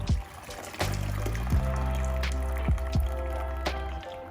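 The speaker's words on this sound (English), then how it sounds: "strain everything from the pot, keeping some of the cooking water aside" Cooked orecchiette pasta with potatoes and vegetables being strained from the pot in a kitchen, with wet draining and dripping, a low hollow resonant hum, and several sharp knocks and clanks of cookware.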